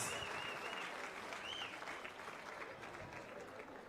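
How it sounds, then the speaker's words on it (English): A crowd at an anniversary celebration attended by Tanzania's president breaks into sustained applause, broad continuous clapping with a few faint whistles over it. "let's give him a round of applause"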